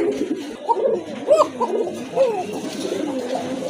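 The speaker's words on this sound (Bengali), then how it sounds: "কোকা কবুতর এক জোড়া, সম্পূর্ণ রানিং, খুব ভালো ডাকে, অলরেডি কিন্তু ডাকতেছে" Pigeons coo close by in soft, rolling repeated calls, overlapping one another continuously with a faint background hum.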